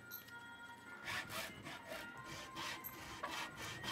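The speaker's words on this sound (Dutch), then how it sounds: "scheuren met de zaag" A hand saw rasps back and forth through a book block held in a vise, in steady repeated strokes. The sound is close but quiet, and the rhythm is even.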